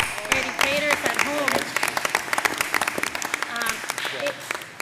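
Audience applause at a school choice roundtable, honoring parents who became educators, with dense clapping running through the clip as a steady wash under and between spoken words.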